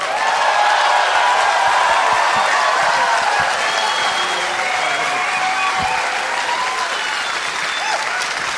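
A comedy club audience claps and cheers steadily and loudly for a performer taking the stage, a dense wash of hands with scattered whoops carrying on throughout.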